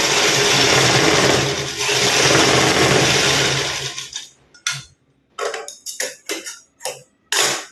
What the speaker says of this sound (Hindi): उसके बाद नीचे भी एक सिलाई कर दीजिए